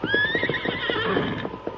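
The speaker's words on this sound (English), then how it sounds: "Huge snowdrifts and the force of the wind slowed their horses' pace to a walk" A horse neighs and whinnies loudly and close in a radio drama snowstorm scene, a rising, shaky call with hoof clip-clops underneath, standing alone without talk.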